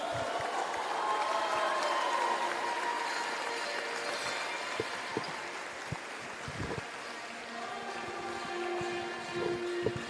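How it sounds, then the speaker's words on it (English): An audience claps for the men's B Division most valuable player at a basketball league final, a fairly faint, steady patter of applause from a hall crowd. "Ladies and gentlemen, another round of applause for Sando Mayanga."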